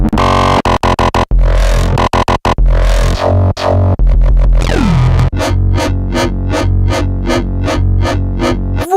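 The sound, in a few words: gritty FM synth sounds chopped on a sampler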